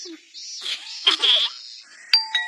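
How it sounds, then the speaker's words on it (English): A doorbell in an animated series gives two clear chime strikes near the end, after a stretch of voices and background sound. "I bet she's in the shower and can't hear the bell."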